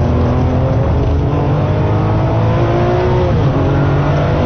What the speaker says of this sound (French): Alors on va tirer les tours pour voir un petit peu comment fonctionne la boîte.